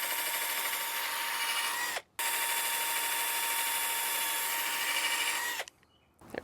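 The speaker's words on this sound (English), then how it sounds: "I'm just going to drill new holes" A power drill bores new screw holes into a thrifted wooden nightstand, whining loudly and steadily in two long runs separated by a brief stop, then cutting off near the end.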